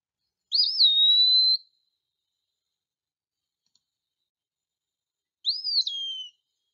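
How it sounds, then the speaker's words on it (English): Two clear, slurred whistled phrases of an eastern wood peewee, the first rising then level, the second a falling note, separated by several seconds of silence, crisp and isolated. "The eastern wood peewee also sounds like its name, saying pee-a-wee, pee-er."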